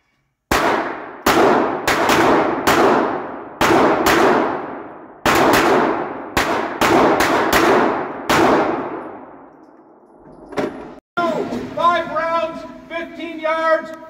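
Pistol shots ring out in quick bursts at an indoor range during a shooting match, a dozen sharp, loud cracks with echoing decay, followed by a brief lull and then a range officer's voice.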